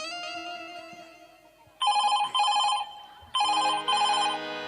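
A telephone rings loudly in two long electronic trilling bursts, each broken into rapid pulses, following a fading tonal chime.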